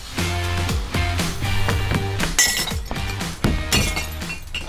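Glass packaging tumbles into a glass recycling container, a loud close run of shattering crashes and clinking shards over a tonal backing hum.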